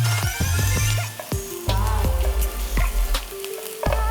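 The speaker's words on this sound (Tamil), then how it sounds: "இந்த ஆனியன்ஸ் எல்லாம் வந்து அது வரைக்கும் நல்லா வதங்கணும்." Onions sauté in a pan for a fish curry, a crackling sizzle beneath repeated sharp scrapes and knocks of a spoon stirring, fairly close and irregular.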